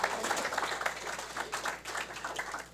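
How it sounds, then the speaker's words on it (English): An audience claps in a steady round of applause at a sustainability gathering on Native American issues, moderately distant and even, with no talk over it. "Can we have a round of applause for them?"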